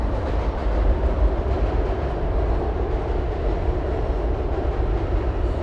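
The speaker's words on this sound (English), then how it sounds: "We'll wait for this train to pass." A train rolls past close by, its heavy steady rumble and rail noise loud and continuous throughout with no voices over it.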